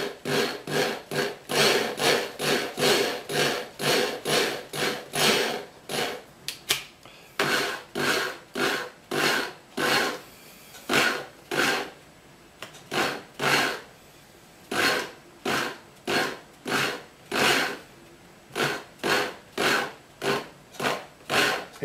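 A hand die cuts threads onto a bicycle spoke with regular back-and-forth rasping strokes, close and steady at about one per second, with two short pauses partway through.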